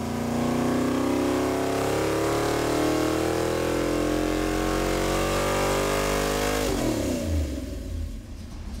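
A junkyard 460 big block V8 on a dyno revs in one long, loud, rising pull toward 6,000 RPM, then drops off sharply and settles back toward idle.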